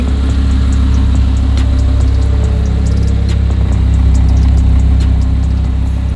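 Audi R8 engine idling with its exhaust valves open, a steady loud low rumble with a faint rise in revs, running continuously throughout at close range.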